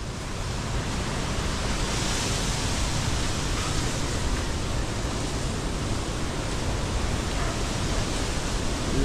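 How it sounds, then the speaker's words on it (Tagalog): Strong wind roars without pause on a rainy day near fruit trees, a dense, steady rushing that stays loud and close throughout, with no clear voices. "Grabe ang hangin."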